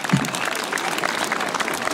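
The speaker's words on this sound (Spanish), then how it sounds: "La recibimos con fuertes aplausos." Steady crowd applause at a Mother's Day celebration at a school in Arequipa, dense clapping that holds evenly for two seconds with no talk over it.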